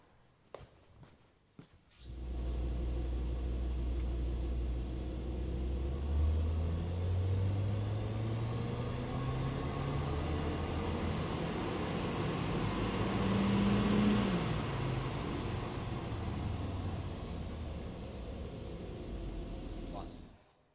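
A Mercedes A180 runs on a dyno, its engine note climbing steadily in a long sustained pull that peaks near the end before cutting off abruptly, with a few sharp clunks just before it starts.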